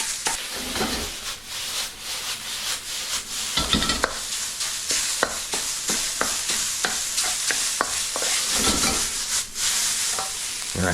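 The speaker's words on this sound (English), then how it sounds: "I'm going to break up that sausage." Sausage being broken up in a stir-fry pan crackles with a loud continuous sizzle, punctuated by rapid, close scraping and tapping of a spatula against the metal, with no voices.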